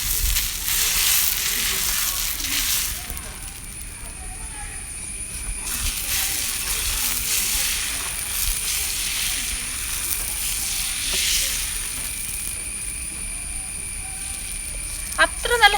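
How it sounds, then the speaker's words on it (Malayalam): Pancake batter sizzling in a hot pan, a steady bright frying hiss that stays loud and close throughout, with a few clinks near the end. "നമുക്ക് മാവ് ഒഴിച്ചു കൊടുത്ത് ചുട്ടെടുക്കാം."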